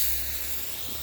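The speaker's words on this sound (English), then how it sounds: "I still will spray it with water whenever it dries out." A hand spray bottle mists water over garden plants, a steady close hiss running without a break, no talking.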